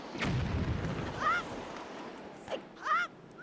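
A bomb goes off in The Legend of Zelda: The Wind Waker HD as a deep, rumbling boom with a wash of debris, followed by a few short chirpy game effects and a splash-like burst.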